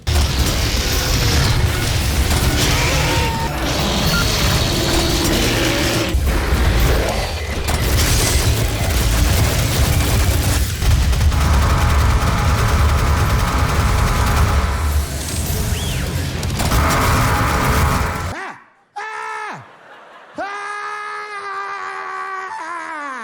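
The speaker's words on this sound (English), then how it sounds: "the mobile turret is the weapon of the year. Sure, it takes a second to deploy" Doom 2016's mobile turret deploys and fires in a loud, continuous mechanical barrage with booming bursts. The barrage cuts off abruptly near the end, leaving a few sharp whirring tones.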